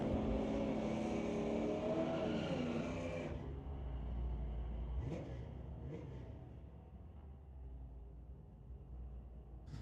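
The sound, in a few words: drag race, Ford Mustang versus Volkswagen Golf R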